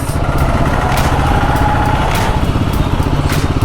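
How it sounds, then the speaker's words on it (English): A tuk-tuk engine on the road, a loud, continuous buzzing drone with a steady throb, heard up close throughout and without speech. "we can overtake this tuk-tuk"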